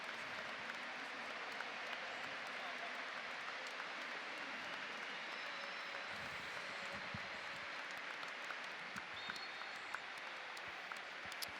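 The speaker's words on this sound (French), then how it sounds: "C'est en fait minute d'applaudissement." A crowd at a Marseille versus Brest football stadium keeps up a soft, even applause through a minute of tribute. It is faint and distant, a continuous patter with a few sharper claps.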